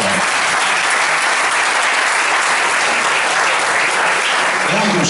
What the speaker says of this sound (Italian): E anche un saluto, un super applauso alla storia della Lega, Giampaolo Gobbo.